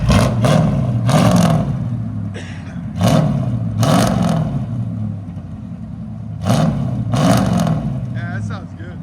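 A 1985 Chevy Monte Carlo with a 305 V8, true dual exhaust and straight pipes idles with a deep rumble, then gets revved in several short, sharp bursts that rise and fall back between them.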